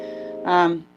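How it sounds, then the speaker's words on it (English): A phone notification chime for Google Photos rings out as one brief, bright tonal swell over a soft lingering tone, close and clear. "That's my phone. That's my nice special notification for my Google Photos."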